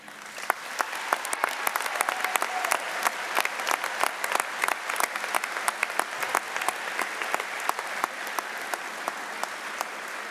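An audience at a spring university commencement ceremony applauds the new graduates, steady dense clapping from a large crowd, sustained throughout without a break.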